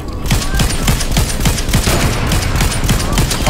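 Rapid gunfire from the battle royale game Fortnite rattles in loud, dense volleys, the shots overlapping into a nearly unbroken stream of cracks for the whole stretch.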